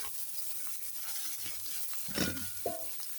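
Noodles frying in a pan with egg and coriander, a soft steady sizzle with occasional stirring scrapes and two brief louder clatters near the end, close by and fairly quiet.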